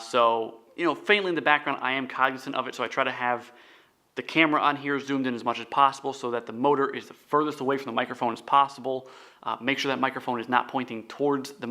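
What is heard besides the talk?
None of the usual background noises is heard.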